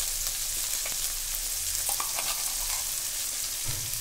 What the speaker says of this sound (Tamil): கல்லுப்பு சேர்த்து நல்லா இதை வதக்கிக்கலாம்.